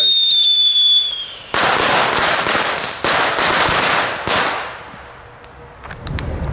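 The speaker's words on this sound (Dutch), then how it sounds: "Dan gaan we zo meteen even een knetterkegel bijhouden" A crackling cone firework bursts into a dense, loud crackle of rapid pops lasting several seconds, with fresh bursts of sharp snaps before it fades. A faint whistle of another firework precedes it.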